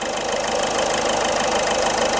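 A Ford Figo Titanium diesel car engine idling steadily up close, a continuous even rumble with a faint rhythmic knock and no other sounds.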